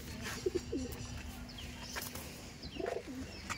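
Tournament racing pigeons, an adult pair, utter two soft bursts of cooing, one early and one near the end, faint and close over low background hum.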